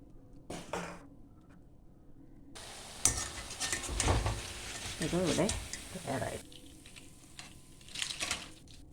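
Naan pakoda fries in hot oil with a crackling sizzle and occasional scraping and stirring in the pan, close by. Someone speaks intermittently over the cooking sounds.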